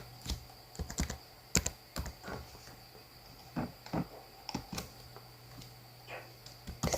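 Typing on a computer keyboard while entering data into a school exam administration application: irregular bursts of close, light key clicks over a low steady hum.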